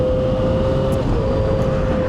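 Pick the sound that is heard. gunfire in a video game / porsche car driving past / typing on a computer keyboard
porsche car driving past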